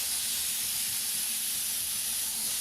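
An airbrush lays a steady, wide spray of paint along a masking edge, half over ice and half over masking paper, a continuous close hiss with no breaks and no talking.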